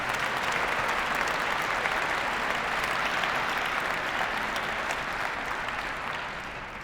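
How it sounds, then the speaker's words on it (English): An audience at a senior recognition event applauds, sustained dense clapping from many hands throughout that tapers off slightly at the end. "I'd like to give them all a round of applause"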